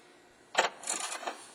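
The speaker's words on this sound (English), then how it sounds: "Using your long extension and 10mm short socket, just turn out those 10mm bolts." A socket wrench on a long extension with a 10mm short socket turns out 10mm headlight bolts on a Chevrolet Equinox, giving a few short, close metallic clicks and rattles.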